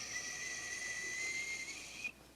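Whistling imitating the wind of a storm: a steady, sustained high whistle with an airy hiss, held alone for about two seconds before cutting off abruptly.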